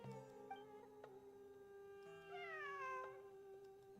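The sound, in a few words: cat meowing in the video game Genshin Impact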